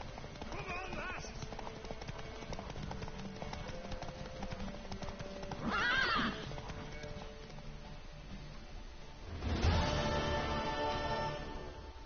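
A horse galloping in The Witcher 3 video game, with rhythmic hoof clip-clops and a whinny near the end, heard under ongoing in-game dialogue between characters.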